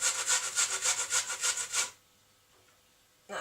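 A good inch of ginger grated on a kitchen grater for a Trinidadian beef curry: a quick run of about a dozen rhythmic rasping strokes, close by, then a near-silent pause before one last scrape.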